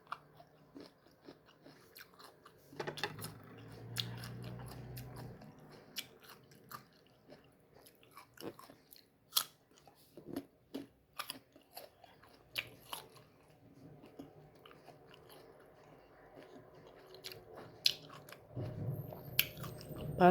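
Someone bites and chews a crunchy Indian mango up close, producing a series of sharp crisp crunches and softer chewing sounds spread over a quiet background.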